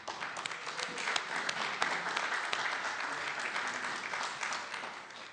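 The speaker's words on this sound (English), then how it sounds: "let's give them a round of applause" Audience applause at an evening press freedom awards ceremony, a dense, even wash of clapping that holds steady for several seconds without fading.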